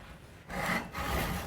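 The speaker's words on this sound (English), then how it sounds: "So I'll just do that with a handsaw." Handsaw cutting through a piece of found wood while shaping a cane by hand, a steady close rasping stroke after a brief quieter start, continuing without pause.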